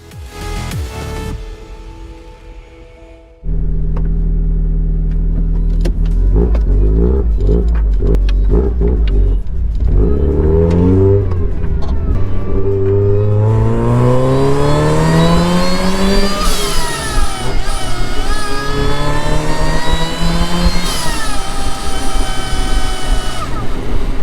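A supercharged Mazda MX-5 Miata on a dyno, idling before the engine bursts in and revs up through long rising sweeps, loud and close, settling and climbing again toward the end.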